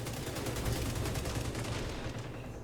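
Automatic gunfire in The Division 2, a rapid sustained burst of shots under a dense game soundscape, steady and fairly loud before easing off slightly at the end.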